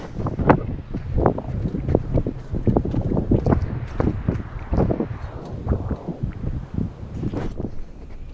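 Cold, gusty wind buffeting the microphone outdoors in the desert near West El Paso, a steady roar broken by repeated sharp low gusts for the whole stretch, with no talk.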